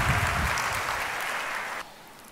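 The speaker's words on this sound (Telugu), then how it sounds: "ఒకసారి చప్పట్లు కొట్టి దేవుని వందనాలు చెల్లిద్దాం" A church congregation applauds to praise God. Thick, even clapping from a crowd carries for nearly two seconds, then cuts off abruptly to a quiet room tone.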